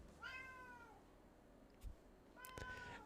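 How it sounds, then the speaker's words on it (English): Cat meowing in the background, two drawn-out meows, the first near the start and the second near the end, with a soft knock between them over quiet room tone. "At the very least, you'll hear a cat in the background."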